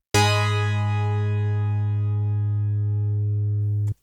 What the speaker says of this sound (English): So you can get a ClaV sound like this.